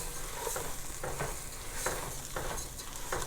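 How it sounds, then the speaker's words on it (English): Risotto rice toasts in a pan with cooked onion, a steady close sizzle broken by repeated scraping stirs at an irregular rhythm. "I'm going to go ahead and toss in my risotto rice. And we're toasting it"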